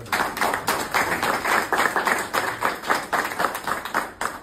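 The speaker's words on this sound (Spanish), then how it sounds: "Fuerte aplauso." Audience applause at an evening event, with individual claps landing in a quick, fairly regular rhythm at moderate loudness, some clear and distinct throughout.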